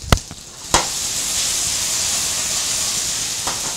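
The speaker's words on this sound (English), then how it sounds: "So the potatoes are cooking" Potatoes cook in a hot pan for a Greek meze dish, giving a steady, loud hiss and sizzle throughout after a couple of sharp clanks at the start.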